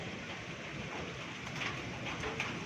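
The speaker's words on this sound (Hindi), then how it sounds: "बारिश भी तेज़ हो रही है" Heavy rain pours steadily during a hailstorm in a village in Bhakkar, Punjab, a dense, even hiss of water close by, with no voices.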